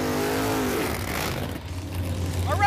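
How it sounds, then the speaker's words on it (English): Two roadkill drag cars, Finnegan's Blasphemi and Freiburger's F-Rod, roar off the line with loud, sustained engine revving and a deep low rumble that holds steady throughout. "2 8-second roadkill cars lighting it up for the honor of the fastest car on roadkill"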